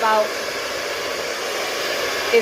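A hair dryer runs on medium heat while hair is being styled, a steady, close, whooshing airflow that holds an even level for the whole short stretch.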